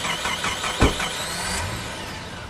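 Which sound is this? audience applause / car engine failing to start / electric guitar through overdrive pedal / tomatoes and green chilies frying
car engine failing to start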